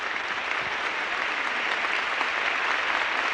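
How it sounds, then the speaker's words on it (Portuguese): A church congregation in São Paulo, Brazil, claps steadily together. The dense, even applause fills the room with no break and no speech. "O nosso jeito brasileiro é aplaudir"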